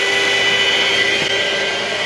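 A Milwaukee mixer drill whirs loudly and steadily as it mixes, a constant high motor whine with only a small dip in its pitch.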